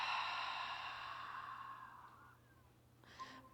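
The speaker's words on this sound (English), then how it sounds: "Big, expansive breath out" A long, forceful exhale during a yoga breathing exercise, breathy and sustained for over two seconds and fading gradually, with a short faint breath near the end; no talking.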